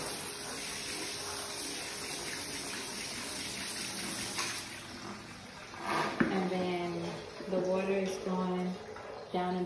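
Water gushes and splashes into a portable foot-pump wash bowl, first a steady rush, then pulsing spurts as the foot press is worked, with someone talking alongside.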